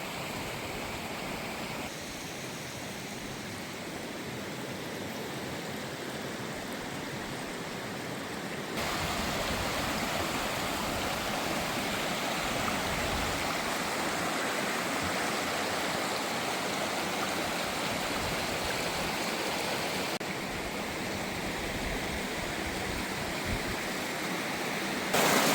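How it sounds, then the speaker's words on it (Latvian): Small waterfalls tumbling over dolomite ledges in a river cascade, a continuous broad rushing wash of water, steady and close, with no voices. "Ik pa gabaliņam dolomīta slāņi veido tādu kā kaskādi, nelielus ūdenskritumus."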